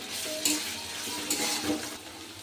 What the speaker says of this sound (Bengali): পেঁয়াজের সাথে রসুনটাকেও আমি একটু হালকা ভেজে নেবো